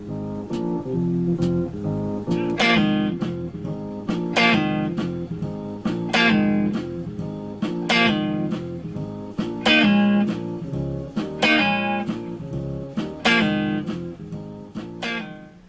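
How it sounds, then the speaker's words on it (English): An electric guitar in standard E tuning plays the staccato chord stabs of a song's intro: about eight crisp, evenly spaced strikes over a sustained ringing tone, clear and upfront with no talking. "We're going to start the song with a series of chord strikes, and they'll sound like this."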